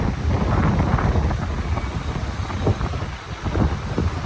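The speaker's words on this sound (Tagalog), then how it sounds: "As in mahangin na mahangin." Strong wind buffets the microphone on the Malta coast, a steady loud roar with low rumbling gusts throughout, and rough sea likely churning beneath it.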